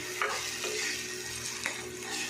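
Saag sizzles and crackles steadily in a hot pan, with brief scraping stirs cutting through the constant frying hiss.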